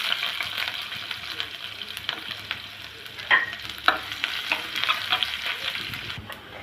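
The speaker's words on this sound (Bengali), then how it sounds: "আর দিয়ে দেবো পেঁয়াজ কুচি।" Chopped onion hits hot oil already tempered with mustard seeds and three dried red chillies, sizzling steadily and loudly, with the scrape of stirring throughout and a few sharper crackles, no voices.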